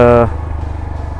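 A brand-new 2022 TVS Apache 160 4V Special Edition motorcycle being ridden: a steady, close engine drone, with a brief harmonic whine at the start settling into a continuous low rumble.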